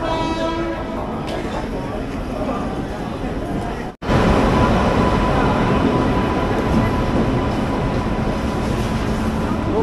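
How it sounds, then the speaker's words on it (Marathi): A crowded Indian railway platform as a train pulls in alongside, a broad rumbling roar building after a brief drop, with constant crowd chatter and someone speaking nearby. "ट्रेन पण जस्ट मागं आलेली आहे"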